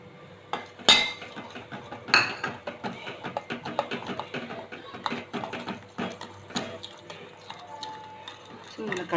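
Gram flour being stirred into melted ghee in a metal vessel, giving a steady stream of scraping, clinking strokes from a spoon against the pot, close and fairly quiet.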